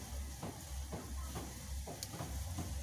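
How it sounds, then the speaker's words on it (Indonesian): A pot of water with kencur (aromatic ginger) simmers and reduces at a rolling boil, giving a faint, steady bubbling hiss with soft periodic surges roughly every half second and no speech. "ini sudah mendidih dan mulai menyusut airnya"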